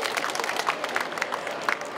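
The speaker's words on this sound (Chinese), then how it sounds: "掌声，恭喜！" Audience applause at a ceremony launching multi-card electronic ticketing on Taiwan Railway, a dense wash of many hands clapping that stays steady and moderately loud for the whole stretch.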